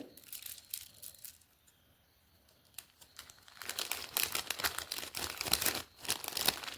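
Elastic hair accessories being packed in plastic: soft crinkling, quiet at first with a lull, then dense, close rustling and crackling bursts of plastic, no talk.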